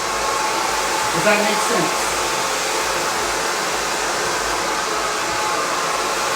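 A hair dryer blows steadily and loudly at close range while hair is being dried, a constant broadband rush throughout, with a person briefly speaking over it.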